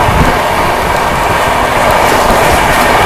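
The 22221 CR Rajdhani Express, running from Mumbai toward Hazrat Nizamuddin, rolls steadily along the rails in a loud, continuous rumble with faint wheel clatter throughout, no voices.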